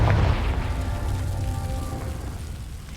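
A Confringo spell explosion in a video game booms loud at the start, then rolls off into a fading rumbling tail over about three seconds, with no voices.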